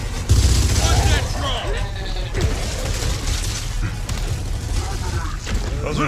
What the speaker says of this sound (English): Those are incendiary grenades.